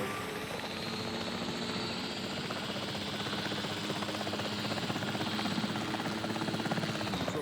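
A helicopter in the video game Jurassic World Evolution 3, its rotor thrumming steadily and continuously at moderate volume throughout, with no talking.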